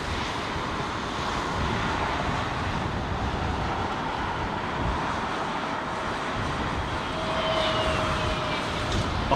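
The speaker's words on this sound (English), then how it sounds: "see the way he pulled the throttle back there. Heard that throttle pitch drop" A jet airliner at Heathrow Airport roars steadily at a distance under broadband wind noise, its engine tone audibly dropping as the throttle is pulled back; no one talks.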